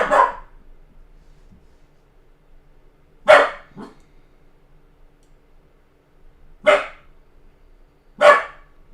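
A dog gives four separate sharp barks, loud and close, spaced several seconds apart with near silence and faint clicks between them.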